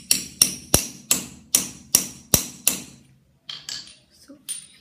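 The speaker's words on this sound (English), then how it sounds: "take your hammer and hammer it down" A hammer strikes a metal setting die about eight times in an even, ringing rhythm to set a metal snap, followed by a few lighter taps and clicks.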